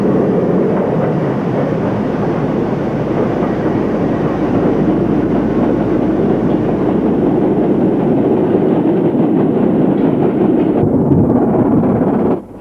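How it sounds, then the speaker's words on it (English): A Stanier Class 8F steam locomotive hauls a freight train off the Daventry line, a loud, steady rumble and roar of wheels and wagons holding for over twelve seconds before cutting off abruptly. "the Stanier Class 8F brings this freight working off the Daventry line"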